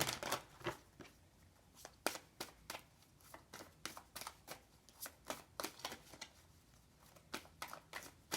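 Tarot cards being shuffled by hand: repeated crisp riffles and slaps in irregular bursts, close and fairly quiet, with no talking.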